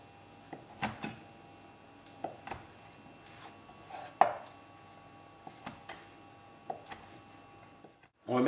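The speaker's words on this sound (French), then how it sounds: "On va venir découper des cubes." A knife cuts bread crust into cubes on a board, a series of irregular soft chopping taps, close and fairly quiet, with no voices.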